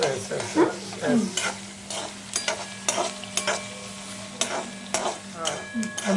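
Onions frying in a pan for mango rice, a soft steady sizzle broken by repeated scraping stirs of a spoon against the pan, with occasional light metallic ticks.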